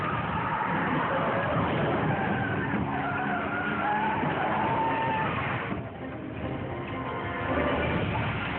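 An SUV's tires skid and squeal in a long, loud screech as the vehicle slides out of control on the road, easing briefly before the squealing picks up again.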